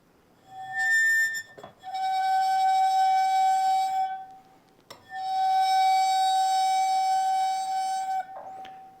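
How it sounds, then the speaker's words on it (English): A wine glass rim bowed with a bow rings out in a sustained, pure singing tone rich in overtones, sounded in two long strokes separated by a brief scrape as the bow changes direction, loud and close. "another way to put energy into a wine glass, besides hitting it, is with a bow"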